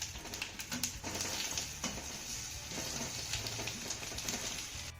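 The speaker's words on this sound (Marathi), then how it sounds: "त्यानंतर दोन ते तीन मिनिटं ह्या वड्या आपल्याला मस्त अशा खमंग खरपूस होईपर्यंत आपल्याला परतून घ्यायच्या आहेत" Cut steamed betel-leaf rolls frying in oil with mustard seeds, cumin and sesame, a steady close sizzle with crackling pops and the occasional scrape of stirring throughout.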